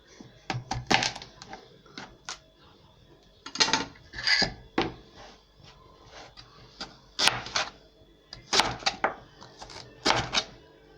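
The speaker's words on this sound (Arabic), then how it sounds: "احنا اول ما نقطعه بالسكينه" A knife cuts a washed turnip into pieces for pickling, producing bursts of crisp crunching and chopping with short pauses in between, close and distinct with no speech.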